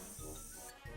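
Spray paint can spraying inside the video game Mon Bazou, laying black paint onto a car part: one continuous hiss that runs about one second, with a brief dip near its end and no speech.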